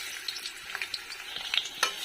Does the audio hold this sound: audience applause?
no